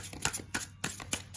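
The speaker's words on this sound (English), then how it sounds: "See how smoothly they shuffle." Tarot cards being shuffled by hand, a quick run of crisp papery riffles in short bursts, close and fairly quiet.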